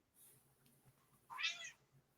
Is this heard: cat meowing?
yes